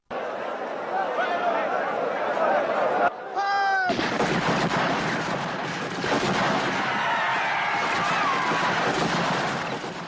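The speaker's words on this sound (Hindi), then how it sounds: "पुलिस ने भीड़ पर 1650 राउंड फायर किया।" Police fire 1,650 rounds on peaceful protesters under General Dyer's order: rapid gunfire crackles in dense bursts amid shouting crowd noise, broken briefly by a rising wail before the chaotic firing resumes.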